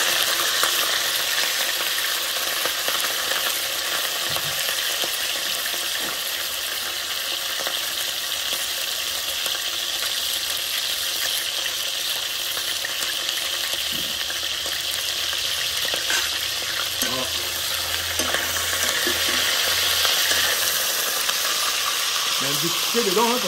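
Spiny lobster cooks in a pan for a lobster curry, giving a steady, loud broadband sizzle that runs unbroken throughout with a few faint clicks near the end.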